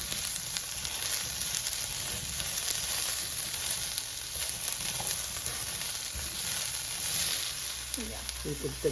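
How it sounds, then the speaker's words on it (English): Onions sautéing in vegetable oil for a coconut pepper curry make a bright, constant close sizzle with faint stirring, and a brief voice surfaces near the end. "We are doing saute until golden brown and soft onion."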